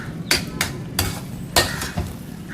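A spatula scrapes and clanks against a pan while egg vermicelli biryani is stirred, in five or six distinct sharp strokes spaced unevenly, close and moderately loud, with no voice.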